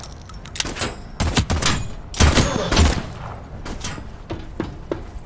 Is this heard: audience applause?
no